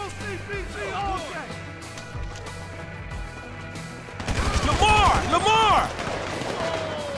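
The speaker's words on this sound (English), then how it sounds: "Sniper fire!" Gunfire in GTA 5 crackles in rapid bursts, growing denser and louder partway through, mixed with game music and voices talking over the action.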